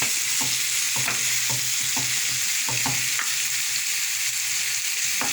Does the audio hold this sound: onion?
yes